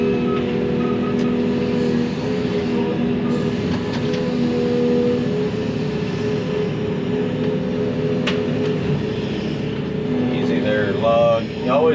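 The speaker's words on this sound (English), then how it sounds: "come back and angle the truck a little bit better to grab the rest of this stuff" Work truck hauling logs in wet conditions idles and creeps while being repositioned, a steady loud engine drone with a low rumble and occasional squeaks and clunks, while someone talks over it.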